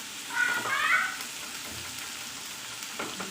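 Potatoes and beans sizzle steadily in a hot pan at close range, a soft continuous frying hiss with a brief louder stir near the start.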